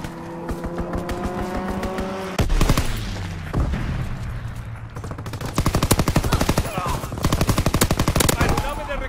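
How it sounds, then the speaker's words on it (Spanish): Rapid machine-gun bursts from a fighter plane's strafing run in Call of Duty WW2, loud and dense, with sustained rattling fire stretching through most of the stretch over a blaring game soundscape. "Piloto de caza en camino. Objetivo ametrallado."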